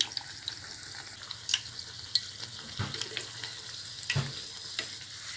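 Egg-filled mughlai paratha shallow-frying in oil in a pan over lowered heat, a steady soft sizzle broken by occasional crackles and pops, close and moderately quiet with no talking.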